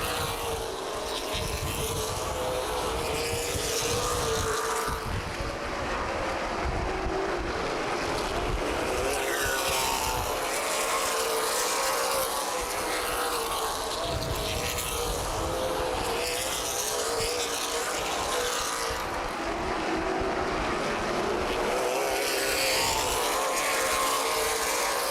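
Race cars from the CRA Super Series at Anderson Speedway roar steadily past in a dense, continuous wash of engine noise that surges and fades as the pack laps the track.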